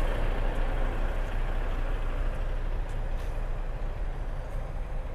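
Intercity buses, led by a Volvo, drive onto a ferry, giving a steady, dense, low diesel rumble that fills the space evenly with no clear breaks.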